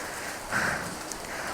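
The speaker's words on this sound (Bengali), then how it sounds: "এতক্ষণ বৃষ্টি হচ্ছিল না, এখন বৃষ্টি শুরু" Rain falls outdoors on a rainy afternoon, a soft steady patter and hiss of drops on surfaces, faint and continuous with no talk.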